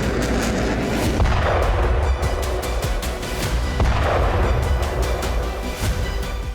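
Artillery fire and explosions from the Russia–Ukraine war, with loud booms and bursts of gunfire striking repeatedly over a dense, continuous rumble, no voices.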